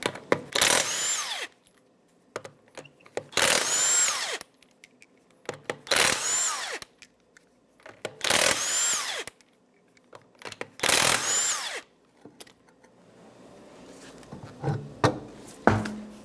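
An impact gun with a 21mm socket spins off the lug nuts of a rear wheel on a 2009-2014 Nissan Maxima, five loud whirring bursts with pauses between, followed by clinks and rattling of nuts and tools.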